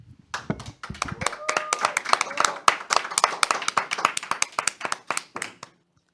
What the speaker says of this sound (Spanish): recibamos con un fuerte aplauso en los estudios de Catolin a Giovanni Medina